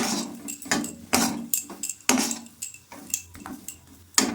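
Spoon stirring khoya sprinkled with cardamom powder in a pan, giving repeated scraping clinks against the metal in an uneven rhythm, close and fairly clear with no talking.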